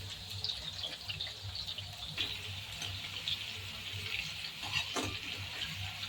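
Sliced bitter gourd fries in oil in a pan, a steady faint sizzle and crackle with a few soft clinks of stirring, no talk over it.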